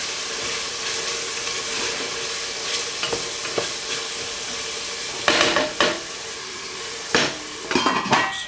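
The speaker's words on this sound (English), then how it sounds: "Let that simmer away." Spices simmer in a pan at home while a utensil stirs and scrapes through them, a steady soft sizzle broken by several sharp metallic clanks and scrapes against the pan toward the end.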